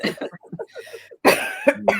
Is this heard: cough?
yes